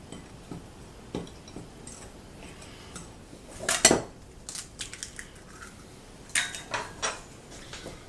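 Dry ingredients for homemade tomato pasta dough being stirred in a bowl, with scattered clinks and scrapes of a utensil against the bowl, quiet and irregular, and a louder cluster of knocks midway.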